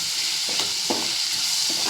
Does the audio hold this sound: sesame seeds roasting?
yes